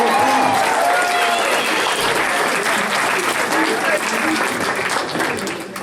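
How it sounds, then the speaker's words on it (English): A grad-night crowd at a hypnotist show breaks into sustained, dense applause for a volunteer on stage, loud and even throughout, with a voice briefly heard at the start. "Let's give her a round of"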